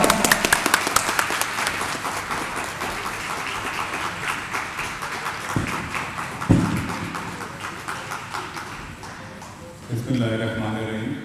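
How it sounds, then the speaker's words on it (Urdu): A crowd claps steadily in dense, sustained applause at an Iftaar party in Lahore celebrating an M2 Motorway interchange approval, tapering off near the end as a voice begins over it. "آپ کی بھرپور تالیوں میں مسٹر مجیب احمد خان صاحب."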